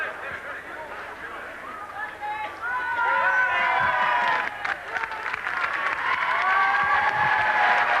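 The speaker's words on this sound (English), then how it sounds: "Big round of applause" A stadium crowd applauds at a rugby league match between Wigan and a Great Britain select side, a steady wash of clapping and murmur that swells partway through, with a commentator talking over it.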